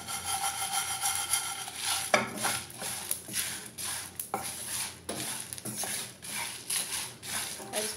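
Roasted spices stirred with a spoon in a pan after the gas is switched off, faint scraping and rubbing strokes in an irregular rhythm with a light sizzle underneath, close up and quiet.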